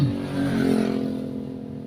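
A carburetor engine idles warm at about 1000 RPM, a steady close-up running hum with no speech over it.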